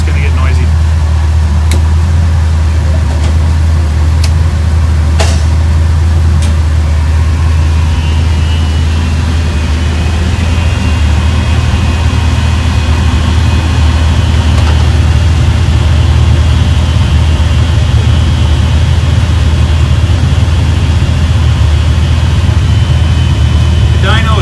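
An LS3 e-rod V8 with an Exocet setup roars on a dyno during a pull, a loud continuous low engine drone with rising whine later on, filling an enclosed test room alongside ventilation fans.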